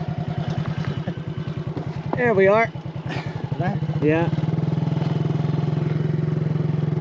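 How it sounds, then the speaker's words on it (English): A motorbike engine idles steadily on Guimaras Island in the Philippines, its low, even rumble running close and loud throughout while people talk briefly over it. "Okay, back on the motorbike."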